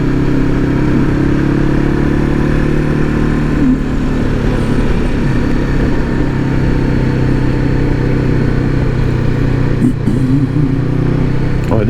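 Motorcycle ridden along a country road in the Basque Country between Isturitz and La Bastide-Clairence, shifting up into third gear; a steady, loud engine drone runs throughout with a slight change in tone, and some voice under the engine noise.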